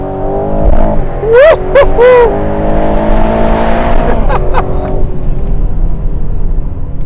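An Aston Martin Vantage sports car driving, its engine droning loud and close with rising revs, brief tonal squeals or whines, and a steady rumble afterward.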